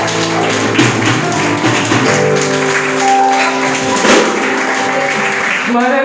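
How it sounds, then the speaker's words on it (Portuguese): A worship congregation claps steadily in praise during a church vigil. The rhythmic claps run continuously over sustained singing and music and stay loud and close throughout. "Eu agradeço a Deus pela oportunidade das palmas do louvor."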